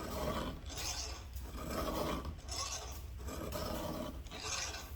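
A hand file rasps across the teeth of a Husqvarna 440 chainsaw chain during sharpening, close and fairly quiet, in about four evenly spaced strokes.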